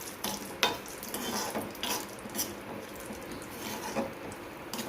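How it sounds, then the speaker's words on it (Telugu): Cashew nuts fry in ghee in a pan, a soft sizzle broken by irregular scraping and clinks of a spoon stirring, close and steady with no talk. "వేయించి పెట్టుకోవాలండి నేతిలో."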